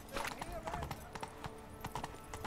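Hooves of Roach, Geralt's horse in the video game Witcher 3, clop in a quick galloping rhythm, faint and close, with light game ambience underneath.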